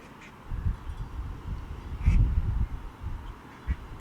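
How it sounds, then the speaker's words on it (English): A duck quacks outdoors several times in a loose, irregular series of short honking calls over faint background noise, the loudest burst coming midway through. "That duck agrees with me."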